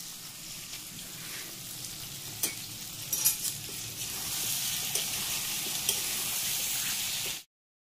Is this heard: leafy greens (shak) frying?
yes